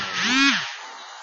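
A short electronic chainsaw buzz from the video game Left 4 Dead 2 revs up and fades, harsh and synthetic, with no talking.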